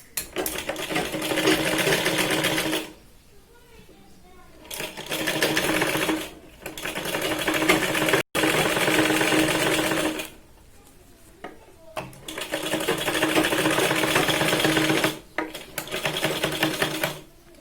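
A sewing machine stitches piping around the neckline of a katori blouse in long loud runs, stopping briefly while the fabric is turned, then starting again, with quieter handling and clinks in the gaps.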